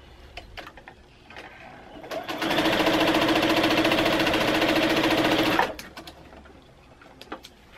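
A sewing machine stitches fabric crumbs together for a quilt block, a rapid close whirring run of about three seconds between quieter handling clicks and fabric shuffling.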